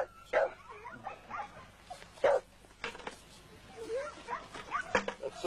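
A young hunting dog at a kennel combine event gives repeated whimpers and short barks close by, mixed with people talking over it.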